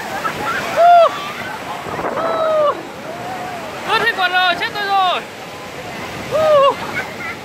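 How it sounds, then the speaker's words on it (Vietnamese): Sea waves surge and wash over bare feet on Kỳ Co beach, Quy Nhơn, with windy water rush underneath excited, exclaiming voices that dominate the foreground. "sóng xô ở chân"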